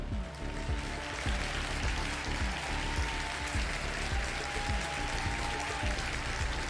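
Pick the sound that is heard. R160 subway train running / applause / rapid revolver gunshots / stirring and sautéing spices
applause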